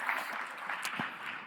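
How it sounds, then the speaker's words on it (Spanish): Brief burst of clapping from a conference audience at an oil-refining industry event, a short, moderately loud patter with a couple of sharper knocks. "Ricardo, por favor, un aplauso a Ricardo"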